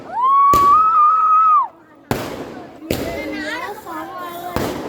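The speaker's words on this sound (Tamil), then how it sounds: "இதெல்லாம் எங்க அப்பா வாங்க வெடி" Sharp firecracker bangs go off one after another at a temple festival, a few loud cracks spaced apart, with a long whistling tone and people's voices between them.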